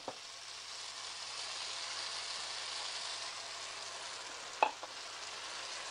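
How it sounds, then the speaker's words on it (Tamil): Prawns sizzle quietly in a pan under a soft, continuous frying hiss, and a couple of brief knocks stand out as the pepper masala is poured in and stirred; the sound is faint and no one talks. "நான் வந்து இந்த மசாலா ஊற்ற போகிறேன்"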